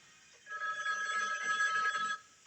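A telephone rings steadily for about two seconds on a 1995 Talk Soup TV broadcast, with a bright, sustained electronic trill that sits alone and fairly clear before cutting off.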